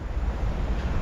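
Sea waves breaking on a beach in Spain in the early morning, a steady roaring wash of surf with wind rumbling across the microphone, continuous and fairly loud with no voices.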